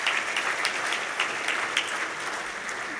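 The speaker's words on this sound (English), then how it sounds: "So a hand of applause for Todd," Dinner audience at an awards banquet applauding Todd Youngkin, a steady wash of many hands clapping with a few louder claps poking through, sustained and moderately loud throughout.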